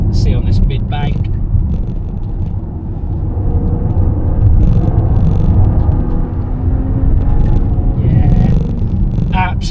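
A 2024 BMW 550e saloon drives around a track with a steady, low rumbling engine and road noise throughout, while someone talks over it.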